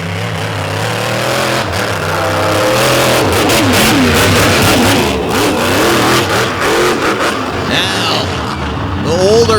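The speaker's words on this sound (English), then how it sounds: "Big cloud of dirt slinging donut there for Perez." A freestyle motorsport car's engine revs hard and keeps roaring while it spins dirt-slinging donuts at an Ohio event, with the pitch rising and falling. An announcer talks over the engine noise.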